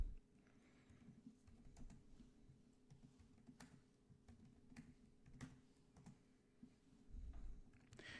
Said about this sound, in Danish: Jeg skriver bare lige lære WordPress.